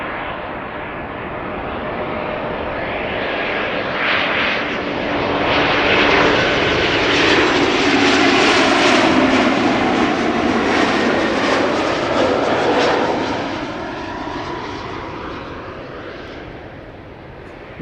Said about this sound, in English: First up, this Embraer 190. Another rare Embraer.